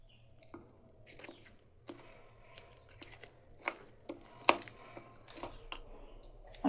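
A marinade of tandoori masala and mustard oil is mixed by hand in a bowl, heard as close, irregular clicks, taps and soft squishy sounds with no talking.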